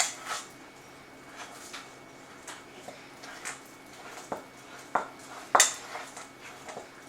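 A whisk works through a thick lemon glaze in a bowl, making quiet, irregular metallic clinks and taps against a faint background.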